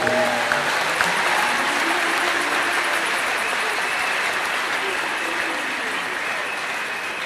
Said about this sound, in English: Can we give a better clap offering to the Lord?